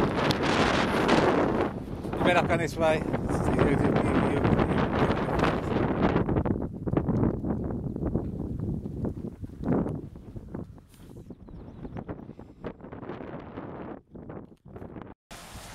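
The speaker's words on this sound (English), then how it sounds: "it's very windy" Strong wind buffets the microphone in loud gusts that ease and come back outdoors at St Michael's Church, Brentor, Devon, with a brief spoken phrase partway through.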